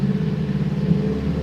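A car engine idles steadily during tuning, with a slight burble rumbling through its low, even drone, close and fairly loud for a second and a half with no talk.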